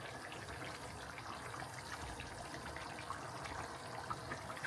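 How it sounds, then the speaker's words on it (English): Maggi liquid seasoning is poured into a pot of potato porridge with chicken breast, giving a faint, steady, even liquid trickle that carries on for several seconds with no talking over it. "this is my Maggi seasoning. Now I'm going to put it in."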